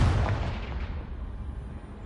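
A Confringo spell blast from Hogwarts Legacy lands as a single loud booming burst right at the start, then rolls away into a fading rumble over two seconds.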